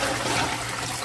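Cold water pours steadily over cooked lasagna pasta sheets, a close, continuous rushing splash with no pauses.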